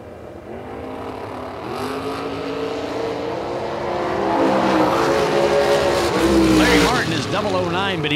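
Drag race cars, including a Monza, roar on the launch at a drag strip, engine tones climbing and swelling louder toward the end under an announcer's voice.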